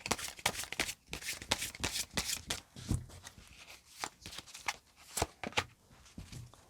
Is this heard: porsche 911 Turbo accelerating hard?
no